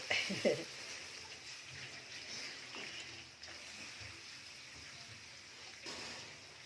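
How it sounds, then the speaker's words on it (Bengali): Water is poured into a pot of cooking fish and potatoes. A short splash at the start gives way to a soft, steady trickle, fairly faint against the room sound. "মাছ আর আলু কষানো শেষ, এখন পানি দিয়ে দিলাম"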